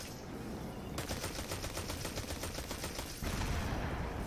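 Sustained automatic weapon fire in the shooter Destiny 2, a fast, even stream of shots hammering for a couple of seconds amid loud game noise, close and dominant.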